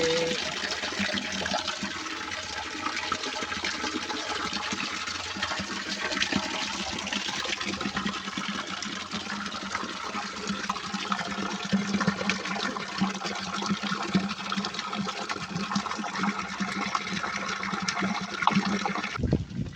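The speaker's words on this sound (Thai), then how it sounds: "ตอนนี้ก็ได้ปล่อยน้ำใหม่ลงไปแล้วครับ" Fresh water gushes steadily into a catfish-rearing jar, a continuous loud pour and splash that runs unbroken from start to finish.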